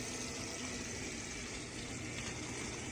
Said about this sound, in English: Makita 12 volt pump for pumping out little tanks or little manholes